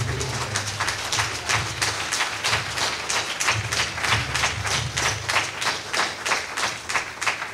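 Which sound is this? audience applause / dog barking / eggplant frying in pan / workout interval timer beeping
audience applause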